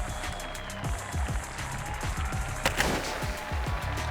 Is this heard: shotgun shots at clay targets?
yes